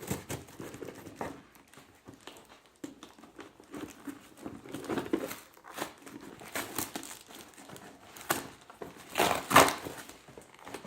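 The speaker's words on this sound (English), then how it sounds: "I'm just gonna cut the box here." A cardboard shipping box holding a new steering wheel is sliced open by hand, giving close, irregular crinkling, scraping and tearing bursts that grow busier toward the end.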